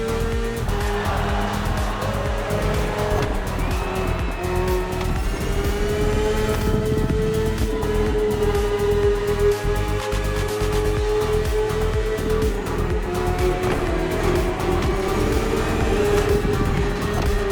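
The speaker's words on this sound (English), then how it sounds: "The one you're riding is the S1000RR. It's what we call a superbike." A BMW S1000RR superbike engine in The Crew Motorfest racing game holds a steady, loud, high-revving whine throughout, with slight pitch swells under continuous game sound.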